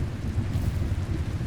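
Steady rain falling in the climbing game Cairn, a soft continuous patter and hiss with no voices over it.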